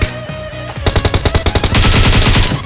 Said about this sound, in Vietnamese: Ôi thằng áo trắng bắn ảo vậy.